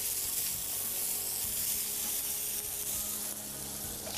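Food frying in a pan gives off a steady, dense sizzle that holds at an even level throughout, close and continuous with no talking.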